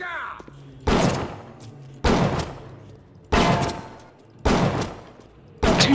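Pistol gunfire in the video game Bioshock: four sharp, loud single shots spaced about a second apart, each with a ringing decay. A faint voice is briefly heard at the start under a low game backdrop.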